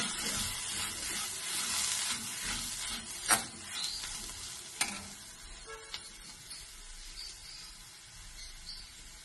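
Cooked beef filling fries and sizzles in a pan under a steady hiss, while a spoon stirs it with a few sharp scrapes and clinks against the pan, quiet and close with no talking.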